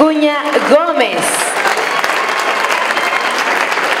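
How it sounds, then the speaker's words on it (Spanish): Steady, dense applause from an audience at a ceremony against violence, with a voice speaking over the very start before the clapping continues alone at an even level. "Aplausos para Rocío Acuña Gómez."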